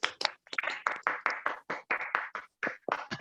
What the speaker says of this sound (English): I will request everyone to unmute and give a round of applause to Toastmaster Anil.